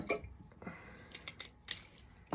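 Floral clippers snip flower stems for a pink Valentine's Day arrangement, a few faint, quick crisp cuts in a quiet room.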